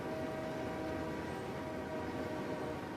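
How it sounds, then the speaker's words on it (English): A freight train in the Forza racing game rumbles past with a steady, dense roar and a faint sustained horn tone running through it, heard alone without talk. "It's a freight train, not a passenger train."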